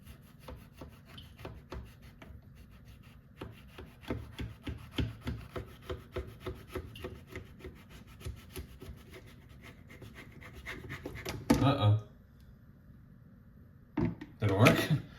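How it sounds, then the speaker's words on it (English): A knife slices through a stack of tomatoes under a lid, cutting with a rapid, rhythmic series of close rasping strokes, then a couple of louder clattering bursts near the end; some talk is heard. "And we slice."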